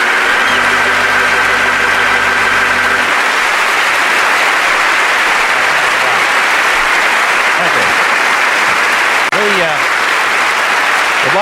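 Studio audience applause at a live Bob and Ray comedy stage show, a sustained dense wash of clapping that follows a brief held organ chord and runs steadily to the end.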